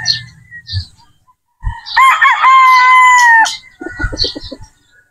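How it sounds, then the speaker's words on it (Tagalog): A pure Boston Roundhead brood stag rooster crows once, loud and close, a long sustained call with a falling tail, with some clucking and rustling before and after. "Ayan po mga bossing yung ating brood stag."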